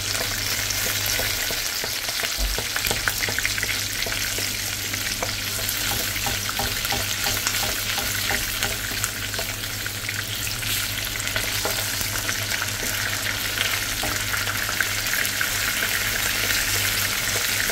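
Salmon frying in a pan, a dense continuous sizzle with crackling spits running steadily throughout, close and fairly loud, with no voices.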